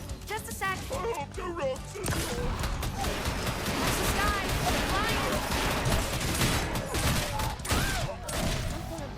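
Turret gunfire in Orcs Must Die! Deathtrap, rapid repeated shots and impacts hammering away continuously amid a chaotic fight with shielded enemies, loud and close throughout.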